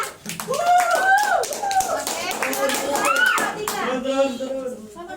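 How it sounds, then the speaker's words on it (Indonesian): A school class claps hands after an art exhibition activity, brisk claps close by, heard under children's and an adult's voices talking. "Tepuk tangan buat semuanya."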